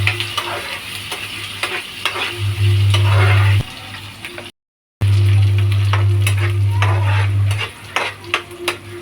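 Vegetables sauté in a hot pan for vegetable poha, sizzling loudly and close under repeated stirring and scraping, with a steady low burner hum and a brief dropout midway.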